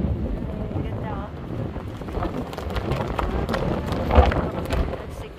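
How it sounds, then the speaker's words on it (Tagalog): Strong wind buffets the microphone during an afternoon walk along the river Seine in Paris, a steady low rumble running through the whole stretch with a brief louder gust near the end. "It's windy."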